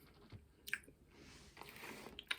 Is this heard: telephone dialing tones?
no